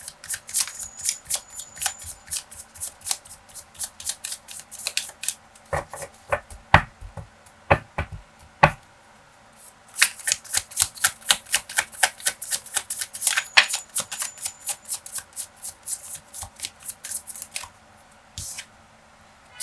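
Tarot cards are shuffled by hand in long runs of rapid, crisp riffling flicks, close and fairly loud, with short pauses between bursts and no talking.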